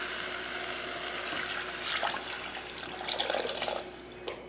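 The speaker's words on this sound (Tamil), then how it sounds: "இப்போ புளி தண்ணி சேர்த்துடலாம்." Tamarind water pours into a pan of rasam with sautéed tomatoes, a quiet running splash that swells in a few brief gushes near the end, heard alone without speech.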